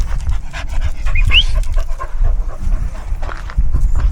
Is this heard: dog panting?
yes